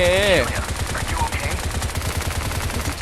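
Rapid automatic gunfire from the video game Bright Memory rattles in a quick, evenly spaced burst that runs the whole time, dense and fairly loud.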